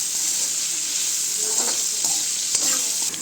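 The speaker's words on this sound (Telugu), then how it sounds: "ఇప్పుడు కరివేపాకు వేసుకోవాలి, మంచిగా కలుపుకోవాలి" Chopped onion and curry leaves frying in hot oil, a loud steady sizzle with a few scraping stirs of a utensil in the pan.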